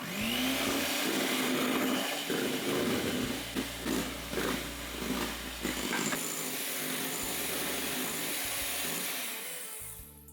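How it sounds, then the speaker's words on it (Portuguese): An electric hand mixer whirring continuously in a bowl as a mixture is poured in for a luxury chocolate treat, its motor droning loud and close with a dense rattling texture, steady throughout and tailing off at the end. "Vou adicionar essa mistura com a batedeira ligada"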